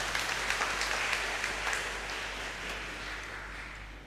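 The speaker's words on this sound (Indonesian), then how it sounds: "Kita beri aplaus kepada Oma." A church congregation applauds steadily during a Sunday Mass homily, with a dense, continuous wash of clapping that fills the room and slowly tapers off toward the end.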